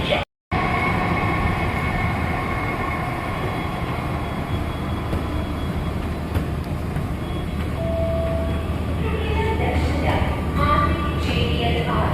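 A Mumbai metro train runs from the CSMT railway station area toward Nariman Point, with a loud, steady rail rumble and rolling hum filling the cabin and some voices in the background.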